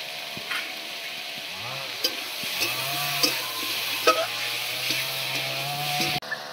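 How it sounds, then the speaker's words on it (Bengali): Potatoes sauté with onion, grated ginger and tomato in a pan, a steady sizzle with scraping stirs and a few sharp knocks of the spoon, while a low drone runs beneath it. "পেঁয়াজের সঙ্গেই কিন্তু আমি আলুটাকে কষাবো, আর কষানোর সময় দিয়ে দিচ্ছি টমেটো।"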